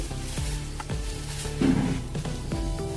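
Thick poha sizzling in a little oil in a pan, a steady close frying hiss with a few soft scraping and stirring knocks, no talking.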